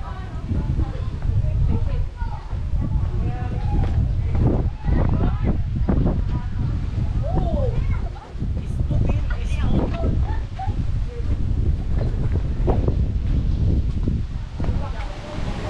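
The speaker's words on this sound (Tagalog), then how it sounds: "Lakas ng hangin" Strong wind in Barcelona, Sorsogon roars steadily into the microphone, a constant low buffeting, while people talk over it throughout.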